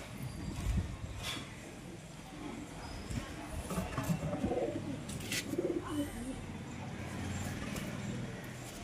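Pigeons coo low and soft at home in a loft, a pair of Lily Matraj hens from the same clutch among them, with a faint cooing murmur under steady background noise and a few brief rustles.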